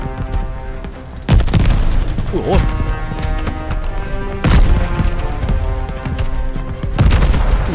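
Anti-aircraft gunfire in the Call of Duty: Vanguard Stalingrad battle: loud, dense booming bursts and rattling mechanical clatter that swell in repeated waves, with a brief exclaiming voice over the barrage.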